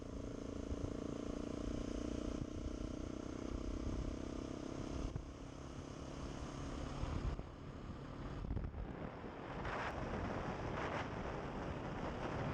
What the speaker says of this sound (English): we're going to accelerate using the accelerate button on the cruise control